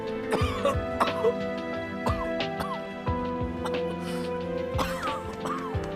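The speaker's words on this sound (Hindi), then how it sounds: "तुम अचानक से ऐसे क्यों खांस रहे हो?" Several harsh coughs and throat-clearing sounds rise above a busy background of music and other noises.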